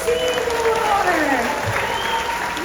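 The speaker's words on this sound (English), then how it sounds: "Okay, round of applause for" An audience at a SeaWorld show claps in a short burst of applause, with an announcer's voice over it.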